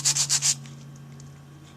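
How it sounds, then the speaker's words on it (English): Four quick rhythmic rasps of sanding scrub rust from a part of a 1927 Atwater Kent Model 37 radio, close and fairly loud, then fading into a faint steady hum. "This is all going to be sanded down."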